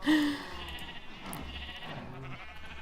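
A single loud sheep bleat in Minecraft opens the moment, then fades into quiet background sounds.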